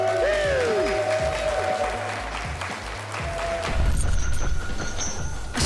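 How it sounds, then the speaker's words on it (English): A loud crowd applauds the fighters after an underground slap fight at an SFC event, with steady, dense clapping and crowd noise throughout, swelling slightly toward the end. "One more time, folks, big applause for these two fighters."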